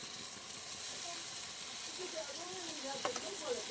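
Mashed roasted eggplant with tomatoes and chili frying in a pan for desi ringan no oro, a steady hiss and sizzle with a few brief pops near the end.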